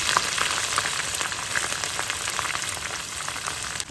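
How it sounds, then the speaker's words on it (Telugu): Washed dried shrimp dropped into hot oil in a pan give a loud, dense, crackling sizzle that continues steadily and close by from start to finish. "ఇందాక నేను కడిగి పెట్టుకున్న ఎండు రొయ్యలు ఈ నూనెలో వేస్తున్నాను చూడండి"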